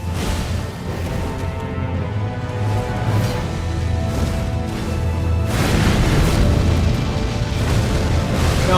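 An explosion in the game Elden Ring, heard as a sustained, loud low roar with rumbling bursts swelling stronger toward the end, over a steady tonal game background and no speech.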